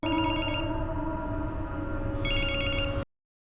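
A mobile phone rings with an incoming call, two bursts of a bright electronic ringtone over a steady humming background. The sound cuts off abruptly after about three seconds, and no one speaks.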